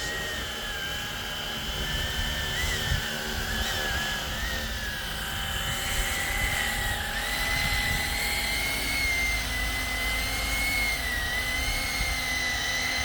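Flywing RC model helicopter, a Hill HX50 replica, with its rotors spinning at steady head speed, a continuous whirring buzz with a wavering high motor whine, moderately close and uninterrupted, no talk.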